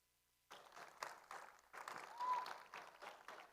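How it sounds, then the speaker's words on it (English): Audience applause at a robotics district event in the SunDome breaks out after a moment of quiet, moderately loud and distant in a large arena. It comes in uneven swells with some cheering mixed in. "So again, give these guys applause too."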